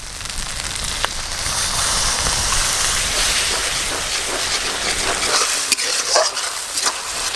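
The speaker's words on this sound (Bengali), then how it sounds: "সমস্ত মশলা টমেটো ভালো করে ভাজা ভাজা হয়ে গেছে।" Spices and tomato fry for ghugni, a steady close sizzle with stirring scrapes running throughout, loud and continuous with no voices.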